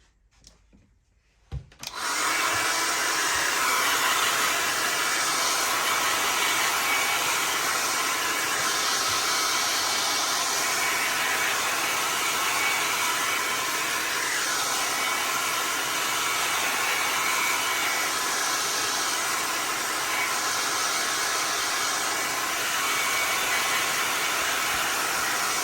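A hair dryer switches on after a brief quiet moment and runs loud and steady, close up, drying leather colourant freshly applied to a blue leather jacket, with no talk over the continuous blowing roar.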